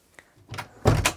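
An indoor door swings shut with a soft thump followed by a firmer closing thud, close by and alone, during indoor plant repotting on a cold day.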